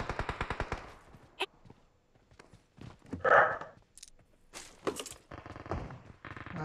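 Rapid burst of gunfire in PUBG, nearby and sharp, opening as a quick run of shots and followed by scattered bangs and clatter through the rest, with faint game chatter in between.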